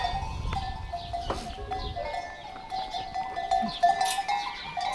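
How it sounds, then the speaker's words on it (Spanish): Goats in a farm pen bleat now and then amid scattered hoof clatter and the tinkle of cowbells, a busy livestock scene with irregular, moderately close calls. "vámonos en principio a las cabras, que es lo que tenemos aquí en mi espalda"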